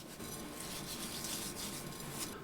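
Hands rub coarse salt over raw chicken legs, a soft, close, continuous gritty scrubbing with rasping strokes, faint and without talk.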